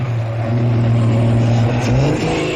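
Vintage Ballot racing cars from motor racing's golden age battle on a race track, a loud, steady low engine drone with a sustained tone that rises slightly near the end.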